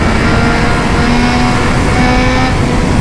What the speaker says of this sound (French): Dès qu'on dépasse les 8000 tours, le moteur se réveille.